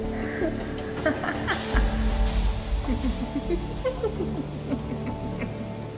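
A horror audio story has a rain effect: a steady patter of rain on a surface, with scattered drips and soft tonal background sounds beneath, at moderate volume.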